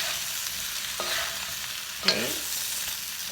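Salt and pepper prawns stirred in a hot pan, with a steady sizzle plus two distinct scraping clanks of the utensil against the pan; a brief voice is heard once.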